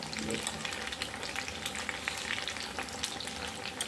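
Sabudana potato vada frying in hot oil, a dense, steady crackling sizzle close up with bursts of popping, no voices.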